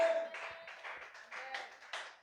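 A small church congregation claps to acclaim the Lord in a run of uneven, fairly faint handclaps lasting about two seconds, with no voices over them.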